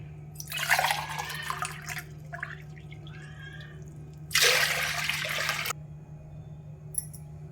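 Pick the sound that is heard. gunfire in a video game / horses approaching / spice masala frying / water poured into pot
water poured into pot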